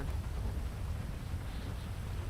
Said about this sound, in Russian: Дождь, да, и грома.